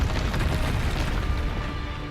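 Confringo fire spell blasts in Hogwarts Legacy, a dense booming burst of magical fire and impact noise that stays loud and continuous throughout, with no talking.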